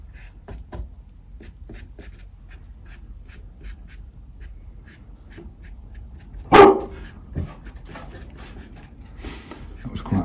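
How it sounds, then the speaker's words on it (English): A single deep dog bark rings out once, fairly close and sharp, against a quiet background with light tapping and brush sounds before and after it. "That was quite a deep bark"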